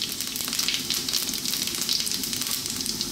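Fennel seeds dropped into hot oil for vegan cauliflower mushroom fried rice, sizzling and crackling loudly and steadily up close, with no talking.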